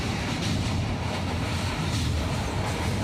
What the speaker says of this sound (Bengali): আওয়াজটা সেই অসাধারণ। ট্রেনটা এখন যাচ্ছে খিরাইয়ের পথে।